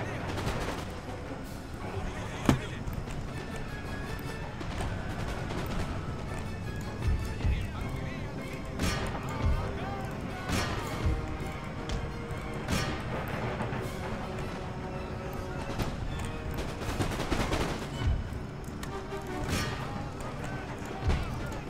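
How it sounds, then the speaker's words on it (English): Musket volleys from line infantry in the Empire: Total War battle, sharp cracks at about 2.5, 7.5, 10.5 and 17.5 seconds over a dense bed of battle noise and horse hooves, with someone talking throughout. "Let's pivot this unit of line infantry to fire into the colonial militia."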